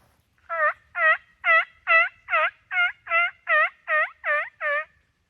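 A turkey call imitating a gobbler sounds a steady run of eleven loud, evenly spaced yelping notes, close and clear, with no talking, during spring turkey scouting.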